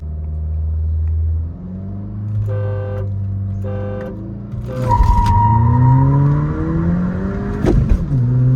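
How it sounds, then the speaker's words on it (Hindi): A Skoda Laura stage 1 and a Mercedes C200 stage 1 drag race: loud engine drone builds, then both cars launch with rising revs and gear changes, engine pitch sweeping upward as they accelerate hard. "फर्स्ट गियर में थी मर्सिडीज आगे, सेकंड में लोरा ने रील कर लिया है"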